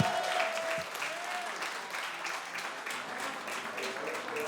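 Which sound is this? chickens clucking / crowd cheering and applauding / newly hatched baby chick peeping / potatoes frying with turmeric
crowd cheering and applauding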